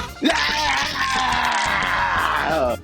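A voice imitates a water deer call, one long strained scream-like cry held for a few seconds, loud and close.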